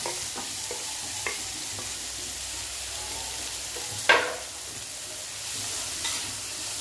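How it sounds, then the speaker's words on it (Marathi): Chopped spinach and garlic sauté in oil with a steady low sizzle, broken by a few light stirring scrapes and one sharper clatter near the middle. "हलकसा असं परतून घेऊया हा पालक"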